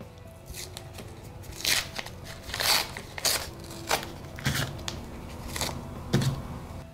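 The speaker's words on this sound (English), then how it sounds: "it's now time to remove your masking tape." Masking tape peeled off freshly machine-sewn hair wefts, giving a string of short crackling, ripping bursts at an irregular pace, close up with faint background noise and no talk.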